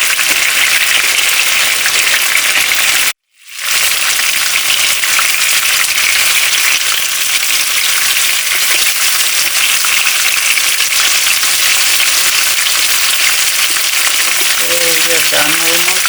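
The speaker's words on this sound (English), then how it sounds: "We're almost done frying, and we're going to take our chicken off our frying pan onto a plate." Chicken sizzles and crackles loudly in a frying pan, a constant dense hiss that briefly drops out near the start.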